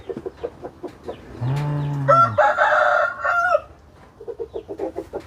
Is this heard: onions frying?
no